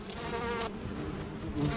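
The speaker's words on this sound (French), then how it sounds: "cette femelle fait vrombir ses ailes pour chasser les abeilles qui s'entêtent à défendre leur production" A female moth inside a beehive, whirring its wings to drive off defending bees, a close, steady insect buzz with brief breaks and overlapping hums from the bees.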